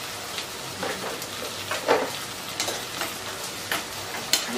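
A spoon stirs chicken curry in a pan, with soft repeated scrapes over a steady low sizzle, close and fairly quiet.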